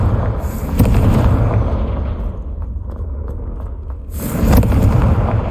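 The Confringo spell from the Hogwarts Legacy video game goes off in two loud, booming blasts, each followed by a fading rumble and crackle.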